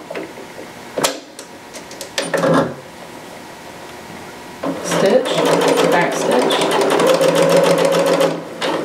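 A domestic sewing machine stitching fabric for a Vogue 2530 garment starts with short bursts, then runs in a steady, loud mechanical whir close by, with brief pauses between runs.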